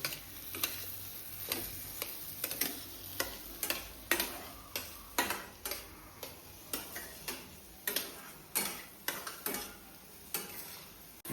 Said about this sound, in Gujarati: ખાંડ ને રવો ને બધું એક સરખું મિક્સ થઈ જાય.